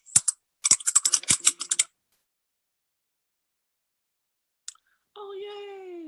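Quick bursts of computer keyboard typing, a short flurry of crisp clicks followed by pauses and a lone keystroke, close and clear in a quiet room, with a voice starting near the end.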